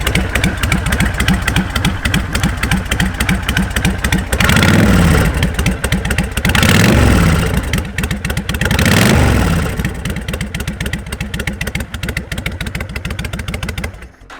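A 2007 Honda VTX 1300 motorcycle engine runs close by, a loud, lumpy idle with rhythmic pulses, broken by three brief rises in revs before settling back to idle.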